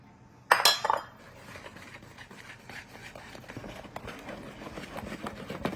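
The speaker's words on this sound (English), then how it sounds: "we'll throw them in here and whisk it all together" Dessert ingredients whisked together in a bowl: a sharp clatter at the start, then a steady run of quick, light clinks and scrapes, close by and with no talking.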